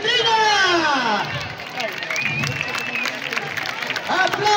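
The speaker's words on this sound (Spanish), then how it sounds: "¡Aplauso! ¡A los grandes toreros! ¡Aplauso!" A crowd claps and cheers at a comic bullfight in Querocotillo, with continuous applause and crowd babble under a loud announcer calling for cheers.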